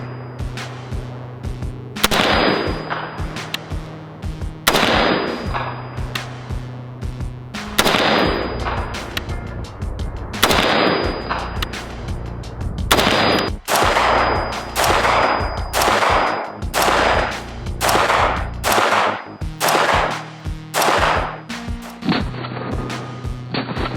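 Colt Air Force Model 601 clone rifle firing outdoors, a long series of sharp loud gunshots at uneven spacing, some in quick pairs, each with a brief ringing echo.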